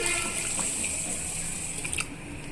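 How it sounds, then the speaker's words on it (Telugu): Drinking water pours into a vessel of washed rice and lentils set to soak, giving a close, continuous splashing gush that eases off near the end. "ఇప్పుడు మంచినీళ్ళు పోసుకొని"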